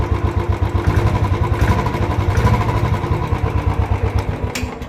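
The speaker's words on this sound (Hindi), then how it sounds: "अब आपको इसका यूसी जे सीरीज़ इंजन का साउंड सुना देते हैं।" Royal Enfield Bullet motorcycle with a UCE J-series engine idling close up, a loud, steady low thump with an even rapid pulse and mechanical clatter, running alone without talk.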